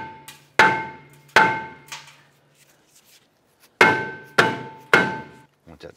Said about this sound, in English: We're simply going to use a dead blow hammer.